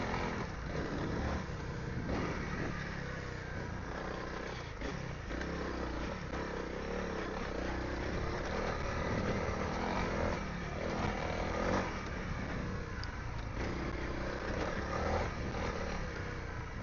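Honda CRF300 dual sport motorcycle ridden along a forest single-track trail, its engine droning steadily and close for the whole stretch with rough clatter and wind buffeting mixed in.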